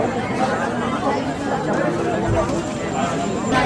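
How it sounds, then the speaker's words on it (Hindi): Crowd bustle at Mahakaleshwar Temple in Ujjain: a steady, dense hubbub of many voices chattering nearby, with no pauses. "भीड़ देखो भाई साहब"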